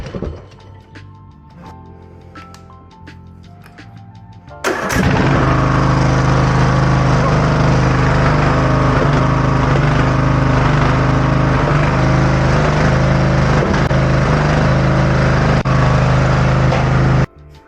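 A used riding lawn mower engine cranks and catches, then settles into a loud, steady close-up idle that runs alone until it cuts off at the end.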